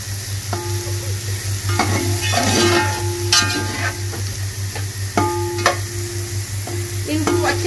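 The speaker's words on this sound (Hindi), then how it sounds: "इनको अच्छे से जो है ना आपने फ्राई करना है, ज्यादा में नहीं जलाना सब्जियों को" Vegetables stir-fried in a hot pan for Chinese rice and Manchurian, a steady loud sizzle with repeated spatula scrapes and clanks against the pan, close and without talk.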